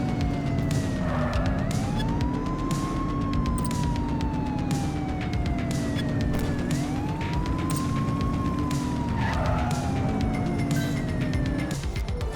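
A police car siren wails continuously through a pursuit in The Precinct, cycling up and down in long sweeps over a loud, steady engine roar.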